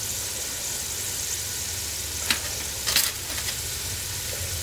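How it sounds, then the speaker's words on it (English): Chopped onions sizzle and fry in a pan with a steady hiss, joined by a couple of brief clinks or stirring scrapes near the middle, close and continuous with no talking. "So just stir that around and let that cook for a few minutes till it starts to soften."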